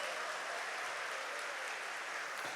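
A congregation at a Catholic church service applauds, a dense, even wash of clapping that holds steady and fairly soft throughout, with no voices over it.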